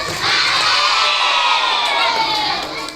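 A crowd of school children at a Maulid Nabi celebration cheer and shout together in a loud, sustained burst that swells quickly and tapers toward the end.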